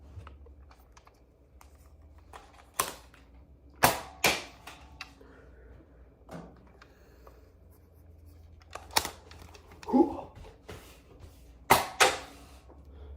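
A Nerf Elite 2.0 Volt SD-1 foam-dart blaster gives off a scattered series of sharp, close plastic clicks and snaps, a few louder cracks standing out against a quiet room with no talking.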